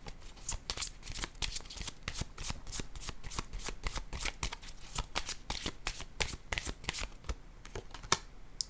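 Tarot cards are shuffled and laid out close up: a rapid, continuous stream of crisp riffling flicks and slaps, dense and steady throughout with no talk.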